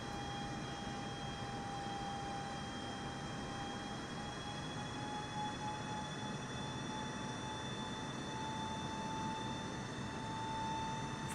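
Airplane taking off in the video game Microsoft Flight Simulator 2024, a steady engine drone with a sustained high whine, constant and even for the whole stretch with no voices.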